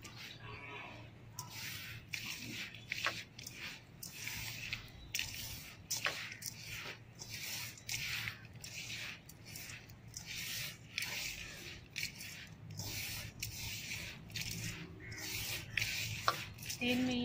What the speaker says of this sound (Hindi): इसे मैं अच्छी तरह से मिक्स कर लूँगी